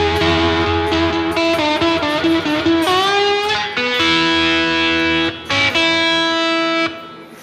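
Electric blues guitar playing a lick from a solo, with bent and sliding notes in a loose, bluesy phrase that sounds close and steady in level, with no voices.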